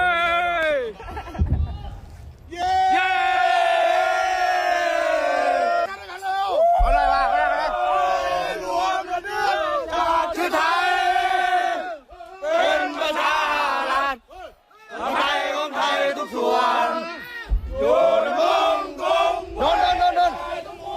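A crowd of Thai soldiers cheers and shouts loudly in long, rising war-cry bursts after a bombardment, voices overlapping, with brief breaks and a few deep thumps.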